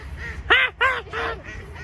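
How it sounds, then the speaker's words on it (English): Two ducks give a few short, nasal quacks in quick succession, close and clear over a faint background hum. "There are 2 ducks"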